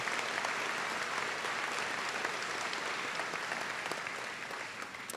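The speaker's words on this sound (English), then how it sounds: "A round of applause for our first graduates." A ceremony crowd at a Trent University convocation applauds the first graduates, with dense and sustained clapping from many people that stays loud and even and tapers only slightly at the end.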